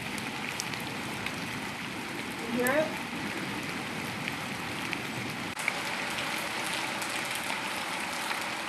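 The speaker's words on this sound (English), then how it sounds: "It's a rainy day, too." Steady rain falling on a rainy day, a constant soft hiss of drops behind someone speaking briefly.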